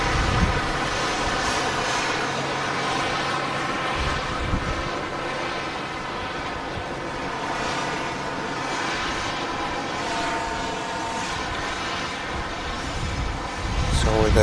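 A Ryanair airliner lines up on runway 23 left at Manchester Airport, its engines a steady, moderately loud jet whine and rumble running through the whole stretch, mixed with outdoor wind noise, with a voice talking over it.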